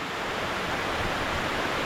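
Steady roar of the waterfall at Stevensons Falls tumbling down a rock face, a constant broadband rush of water, loud and unbroken for the short stretch.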